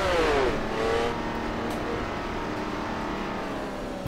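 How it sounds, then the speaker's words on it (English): A race car engine revving in the Assetto Corsa VR driving game, a loud, steady engine roar with a pitch that drops in the first second and then holds fairly level. "This car sounds awesome."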